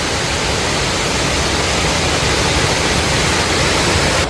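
Water pouring down a waterfall at Curug in Tahura Dago forest park, a loud, dense, constant roar that fills the whole clip close up, with no voices.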